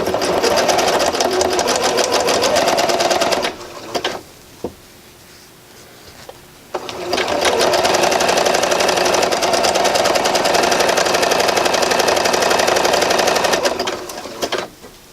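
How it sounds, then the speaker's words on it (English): Sewing machine running fast in steady bursts as it stitches a capelet sweater seam from bottom to top, a dense close mechanical whir that stops briefly for a few seconds before resuming at full speed. "I'm just gonna sew all the way from the bottom to the top."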